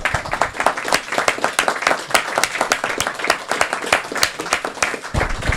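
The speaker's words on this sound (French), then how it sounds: "On va vous applaudir." Lively clapping from a small audience at a book signing event, close and fairly loud, with individual claps distinct in a brisk, uneven rhythm that carries on for several seconds before breaking off.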